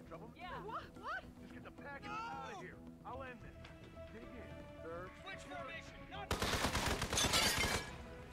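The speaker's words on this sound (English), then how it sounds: "Why are they shooting me?" Enemy gunfire in the video game Hitman 2, a loud dense burst of rapid shots arriving near the end after a stretch of talking and quieter game sounds.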